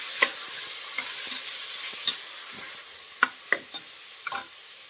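Washed toor dal is stirred in a frying pan over a steady sizzle, with scattered scraping clicks of the spoon against the pan at an irregular pace, close and clear.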